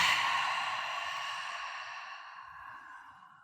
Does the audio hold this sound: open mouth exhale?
yes